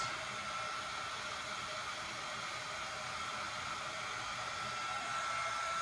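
A hair dryer blows steadily on damp hair, producing a constant close airy whoosh with a faint tonal whine, unbroken throughout.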